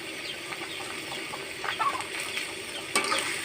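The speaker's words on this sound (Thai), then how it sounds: "ก็มาคนกันครับแกงหมูวันนี้ง่ายๆรวดเร็วทันใจ" Minced pork stir-fry with chilli paste and long beans is stirred in a pan, soft sizzling under a few quick spatula scrapes and clacks, quiet and close.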